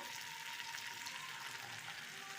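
Chicken curry masala sizzling in a pan as boiled chicken stock is poured in bit by bit, a steady close hiss of frying that holds even and unbroken, fairly faint, with no voices.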